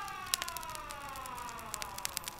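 Endless siren in a spoken horror story, a faint, steady wavering tone with slowly falling pitch, joined by scattered sharp clicks and taps.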